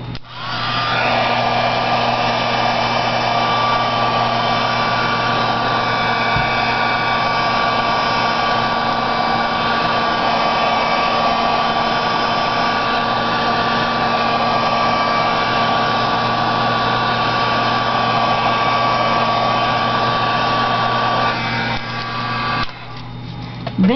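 A hair dryer blows steadily and loudly on a painted tile to dry it, a continuous whirring drone lasting nearly the whole time before cutting off near the end.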